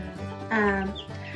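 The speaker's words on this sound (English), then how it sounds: "And these are just our chickens." A chicken gives a short, close cluck over steady background noise, with softer clucking around it.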